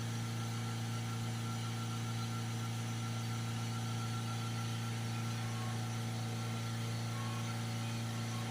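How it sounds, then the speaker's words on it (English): A Ford Transit Custom van with a blocked DPF idles in a steady, faint, even hum that holds unchanged throughout. There is no talk. "Right now I've got the engine idling"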